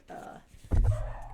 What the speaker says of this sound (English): And of course my dog is probably barking